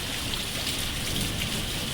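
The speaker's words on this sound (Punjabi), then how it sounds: "ਇਹਨੂੰ ਕਹਿੰਦੇ ਬਰਸਾਤ" Heavy rain pours down in a dense, steady hiss with no voices.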